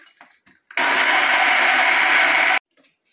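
Kitchen blender whirring as it blends green corn for a creamy corn cake, one loud steady burst of about two seconds, with faint speech and clatter just before and after.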